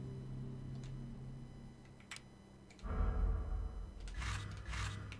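Mechanical clicks and a brief metallic clatter from a typewriter being opened in the Resident Evil video game, starting with soft isolated ticks and then a louder burst of rattling near the end, with no talking.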